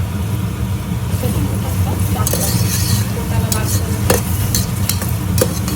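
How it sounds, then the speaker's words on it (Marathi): Onion added to hot oil in a pan for a mutton curry sizzles loudly and steadily, with stirring clinks and scrapes scattered across the sizzle. "आता आपण यामध्ये कांदा टाकूया"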